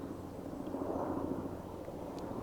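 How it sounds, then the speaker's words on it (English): A helicopter drones far off over Bryce Canyon National Park, a faint, steady low rumble that swells slightly and fades, alone in an otherwise quiet outdoor scene. "I know you can kind of hear a helicopter in the distance."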